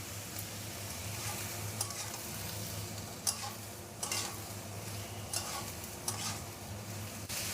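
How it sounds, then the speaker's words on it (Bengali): Snake gourd (chichinga) fries in a pan with a steady, soft sizzle, broken by a few sharp scrapes and clicks as it is stirred; no voices. "চিচিঙ্গাটাকে 2 মিনিট ভালো করে ভেজে নিয়েছে।"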